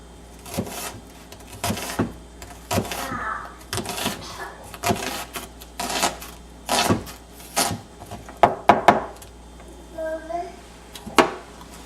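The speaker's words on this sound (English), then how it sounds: "And there's some nicely cut up onion." A big knife chops an onion on a board, giving sharp, uneven thuds close by, singly and in quick bursts, with a voice talking in between.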